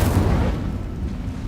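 Incendio fire spell cast in Hogwarts Legacy, a deep, loud whooshing burst of flame that swells at once and rumbles on steadily for over a second, with no voices.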